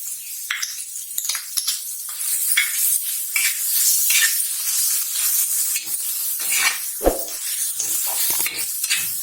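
Ginger-garlic paste hits a hot pan of tomato masala for egg bhurji, loud bursts of sizzling mixed with close spatula scrapes and clatters against the pan.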